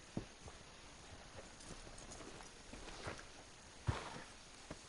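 Horse hooves clip-clop at a steady walking pace in the Red Dead Redemption 2 video game, faint and moderately near, with a few sharper thuds standing out against soft ambient background.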